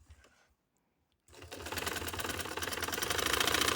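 Sewing machine stitching a frock collar, starting after a short silence and running as a steady, loud mechanical whir with a fast regular stitching rhythm that continues to the end.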